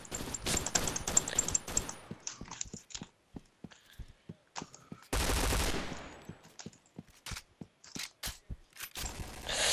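Bursts of rapid gunfire crackle throughout, with a long sustained volley in the middle and sharp isolated shots between, loud and close.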